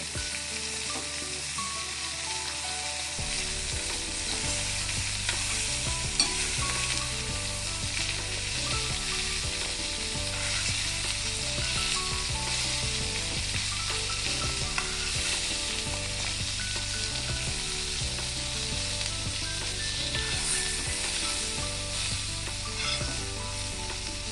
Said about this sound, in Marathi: आता हे दोन्ही साईडने आपण तळून घेऊया चांगलं.